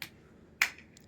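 Two sharp hand claps during a yoga exercise, the second made with hands behind the back, spaced about half a second apart, crisp and close with quick decay in a quiet room.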